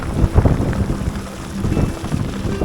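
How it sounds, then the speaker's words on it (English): Tropical rain falls at Providence Atoll, a steady broadband wash of heavy rainfall with low rumbling gusts, loud and close throughout with no talking. "The last day, we were greeted by rain."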